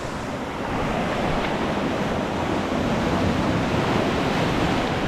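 Rough ocean surf pounding during a tropical storm on the coast of Jamaica, a dense continuous roar of breaking waves mixed with gusting wind noise, loud and unbroken.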